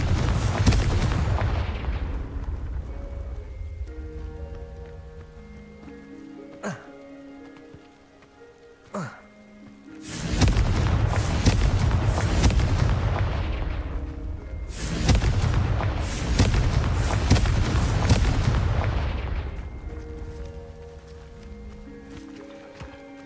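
Fire-spell explosions in Hogwarts Legacy, several loud rumbling blasts with crackling, rain-like debris decaying over a few seconds each, interspersed with quieter tonal magic effects and brief sharp hits.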